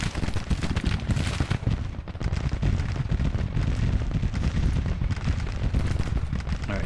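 Dense, continuous rumble of Civil War artillery guns and battle noise in Grand Tactician: The Civil War, loud and steady throughout, with booms blending into a roaring wall of sound and no talking.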